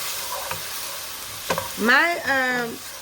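Onions and minced garlic fry gently in olive oil under a soft background sizzle, with a few light stirring taps and a brief squeaky, wavering tone near the end.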